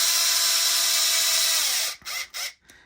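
A small power driver whirs steadily while tightening a bolt on an RC car rear differential, then stops and gives a few short bursts, close and loud.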